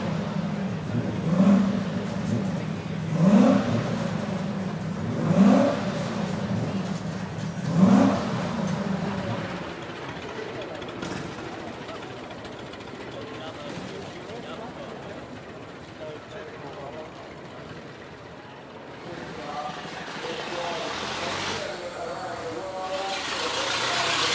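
A 1903 Mercedes Simplex 60hp with a 9.2-litre four-cylinder engine revs in several strong surges, then settles to a lower running rumble, with people talking close by.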